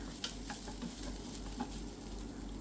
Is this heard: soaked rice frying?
yes